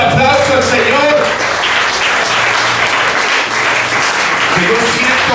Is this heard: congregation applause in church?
yes